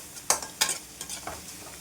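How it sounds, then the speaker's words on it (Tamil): Onion sautés in oil, heard as short bursts of close stirring and scraping over a soft sizzle, about four strokes in quick succession and no talk. "கொஞ்சம் ஆனியன் நல்லா வதங்கட்டுங்க எண்ணெயிலேயே"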